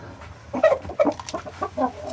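Young rooster about five or six months old, still growing its tail and neck feathers, gives a run of close, short clucks and throaty calls, several bursts over two seconds with no talk.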